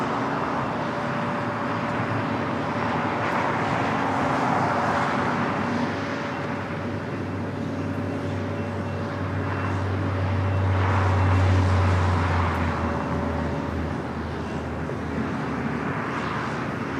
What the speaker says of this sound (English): Dreamliner now making that left-hand turn onto taxiway Bravo.